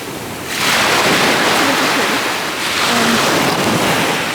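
Surf rolling onto the shore at Hoppers Bay in the Bahamas, a steady broad wash of breaking waves with wind buffeting the microphone, building after a quiet first half-second and swelling again near the end.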